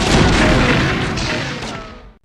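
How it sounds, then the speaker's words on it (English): Pirate ship cannons firing in a Monkey Island video game, a loud, rumbling barrage of booms that rolls on and then cuts off abruptly near the end, with no talking. "Empty the cannons on him, me hearties."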